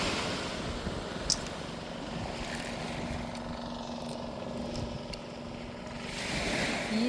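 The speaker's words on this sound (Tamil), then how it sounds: "கடல் அலைய பாருங்கள் நல்லா அலை சத்தம் கேட்கும்" Steady broadband rush of surf rolling along a shore, continuous and fairly loud, with a brief sharp click partway through and no voices.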